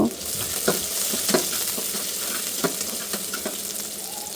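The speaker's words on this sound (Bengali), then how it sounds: "এখানে ওই কড়াইতে সাদা তেল দিয়ে দিলাম পেঁয়াজ কাঁচামরিচ দিয়ে কিছুক্ষণ ভেজে নেব" Onion and green chillies fry in white oil in a wok, a close, steady sizzle with repeated scraping strokes of a stirring utensil.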